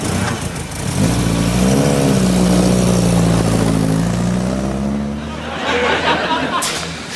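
A car pulls away with a rising, steady engine tone that fades toward the end, heard alongside speech.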